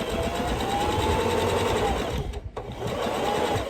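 A sewing machine runs continuously, stitching along the edge of a fabric superhero face mask with interfacing, a steady close mechanical whir with a brief pause before resuming.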